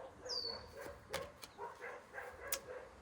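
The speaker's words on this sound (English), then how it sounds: "These dogs are going crazy." Dogs indoors giving a few short yips and barks mixed with a high whimper, fairly faint and scattered, with no talking.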